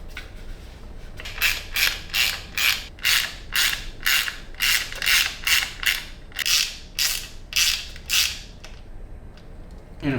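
Gold bushings being screwed back onto a Beta Xtrainer 300 motorcycle with a ratchet, giving a steady run of about fifteen quick, evenly spaced clicking strokes, close and fairly clear, with no talking.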